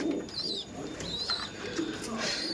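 Giribaj high-flying pigeons cooing close by in a loft, several soft throaty coos rising and falling over about two seconds, with light background murmur.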